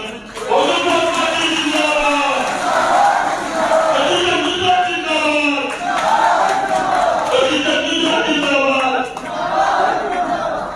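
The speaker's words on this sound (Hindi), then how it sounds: "जोरदार तालियों से अभिनंदन।" A large crowd at a political party election rally cheers and shouts together in a loud, sustained roar with voiced chanting rising and falling throughout.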